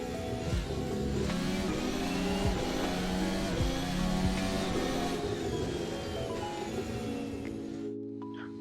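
Race cars in the video game Assetto Corsa, a pack of engines droning and revving together at a steady, moderate level before cutting off near the end.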